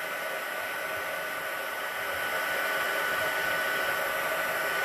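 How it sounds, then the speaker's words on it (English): A heat embossing gun melts embossing powder on a daisy garden birthday card, blowing as a steady, loud hiss of rushing air that holds unchanged throughout. "So it takes a minute to get the gun heated up, but we're starting now."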